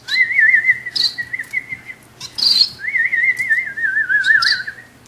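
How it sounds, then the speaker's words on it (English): A person whistles wavering, sustained notes in two long phrases while small pet society finches answer with short, bright chirps in between, close by and fairly quiet. "Watch what happens if you whistle."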